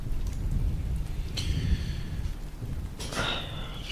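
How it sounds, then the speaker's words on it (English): Distant thunder ambience from mynoise.net: a steady rain-like wash with low rumbling, broken by two brief crackling bursts of far-off thunder. "the ambient sound is, I don't know, mynoise.net, distant thunder"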